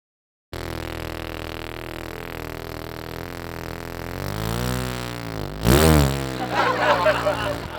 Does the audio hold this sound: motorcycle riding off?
yes